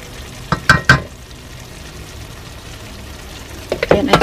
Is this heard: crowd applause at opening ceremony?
no